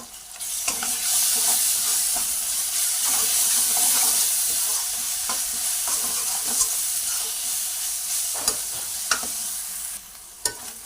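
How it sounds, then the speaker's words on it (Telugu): Onions and ginger-garlic paste fry in a pan while being stirred, a steady close sizzle broken by sharp spatula scrapes and taps, dropping briefly near the end. "ఉల్లిపాయ ఇట్లా మంచిగా ఉల్లిపాయ వేగింది, అల్లం వెల్లిపాయ పేస్ట్ వేగింది కదండి"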